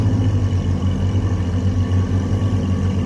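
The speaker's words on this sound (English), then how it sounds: "he's bringing the car out" A Carbon Series sports car set to race mode is driven out of a private collection garage, its engine giving a steady, close, deep rumble that holds level throughout with no voices.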